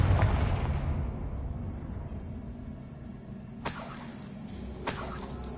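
A Confringo blasting spell explodes in the Hogwarts Legacy video game: a heavy burst rumbles and fades at the start, then two sharp, loud blasts crack out a second or so apart.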